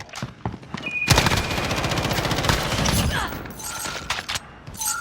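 Rapid bursts of automatic gunfire in a Modern Warfare 2019 firefight, a dense rattling volley of shots running for several seconds after a few scattered pops, loud and close.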